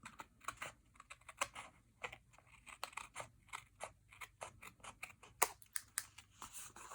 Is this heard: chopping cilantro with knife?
no